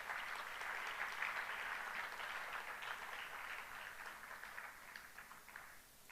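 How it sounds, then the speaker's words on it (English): Audience applause for a dancer fills the space, a dense steady clapping from a crowd that holds for about six seconds and thins slightly at the end. "So let's give her one more big round of applause."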